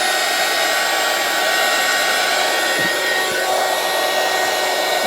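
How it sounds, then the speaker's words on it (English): A heat tool blows a steady, loud, continuous whooshing drone of hot air while drying watercolour cards, unbroken for the whole stretch, with no talking. "So heat tool going on."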